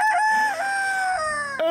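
A rooster crows close and loud in one long cock-a-doodle-doo, rising, holding a high pitch and then falling at the end.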